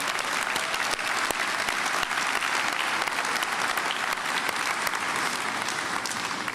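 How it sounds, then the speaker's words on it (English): A large audience at a BMW workforce celebration applauds with sustained, dense clapping that stays steady and loud for several seconds, with no voices over it. "that deserves a round of applause"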